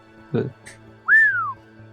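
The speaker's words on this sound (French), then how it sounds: "Je laisse aller un sifflement en rentrant dans la pièce." A person whistles a single sliding note, rising then gliding down, after a short thump and a soft background hum.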